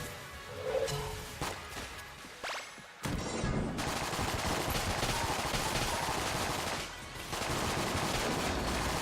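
Rapid bursts of gunfire in the video game Enter the Gungeon, with dense automatic volleys broken by brief pauses and sharp single shots, loud and close.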